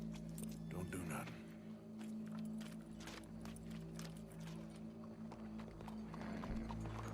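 Horse hooves clip-clop in Red Dead Redemption 2, a steady walking rhythm of light knocks under a droning score and ambient hum, with a voice speaking over it.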